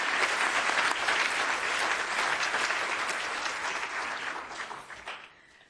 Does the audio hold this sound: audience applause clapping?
yes